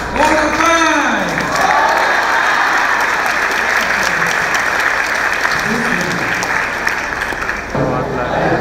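Steady audience applause fills a gospel concert hall, dense and continuous, with a voice speaking briefly over the clapping near the start; the clapping runs on evenly and drops off abruptly just before the end.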